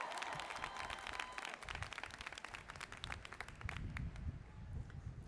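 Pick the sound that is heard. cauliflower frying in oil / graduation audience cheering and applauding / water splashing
graduation audience cheering and applauding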